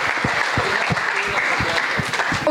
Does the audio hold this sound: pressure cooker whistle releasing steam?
no